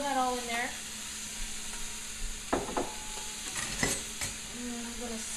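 Garlic and celery sweat in a soup pot for turkey soup, giving a soft sizzle with a few stirring scrapes and knocks of a utensil against the pot, and a brief voice near the start.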